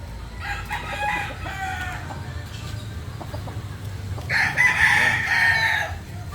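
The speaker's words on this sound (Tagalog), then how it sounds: "Mga broodcock po ito natin, ha." Broodcock roosters crowing on a game farm, one crow early and a louder, longer cock-a-doodle-doo near the end over low farmyard background noise, with no clear talk.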